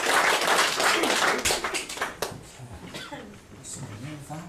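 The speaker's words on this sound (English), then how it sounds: "Give him a round of applause as he makes his best work." An audience at a live comedy or variety show claps in a short burst that thins out after a couple of seconds, giving way to someone talking.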